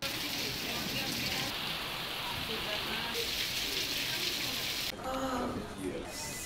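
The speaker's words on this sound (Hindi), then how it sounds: "वाशिम शहर समेत जिले में कई जगहों पर भारी बारिश हुई है।" Heavy rain pours steadily across a town in Washim district, a dense, continuous hiss with no breaks, briefly joined near the end by other faint sounds.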